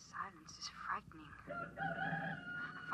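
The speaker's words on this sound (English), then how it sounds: "It sounds like a rooster." A rooster crows in a radio drama, a rising and falling call over a low rumble with some other sound layered beneath, moderately loud.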